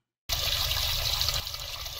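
Water gushes steadily into a bathtub in the video game Roblox, a continuous broadband splashing rush that starts abruptly after a moment of silence and keeps running at a fairly loud, even level.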